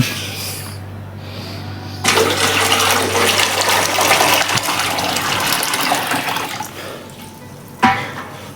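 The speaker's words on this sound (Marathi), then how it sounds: "इथे असतो पाणी, याच्यात पाणी टाकणं पडेल" Water is poured into a vessel to bathe a deity idol during a home puja, a close, loud gushing splash that runs for several seconds. Quieter handling noises come before and after it.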